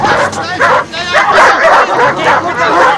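Dogs bark and yip in a scene from the 1984 film Top Secret!, a rapid cluster of loud, close barks mixed with shouting voices and general commotion.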